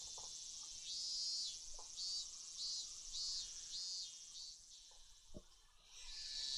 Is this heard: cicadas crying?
yes